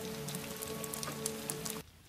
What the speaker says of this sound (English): It's raining gloomy outside.